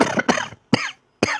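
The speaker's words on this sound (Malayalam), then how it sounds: "ചുമയുണ്ട്." A sick person coughs four times in quick succession, with raspy, throaty bursts separated by short pauses, close and loud.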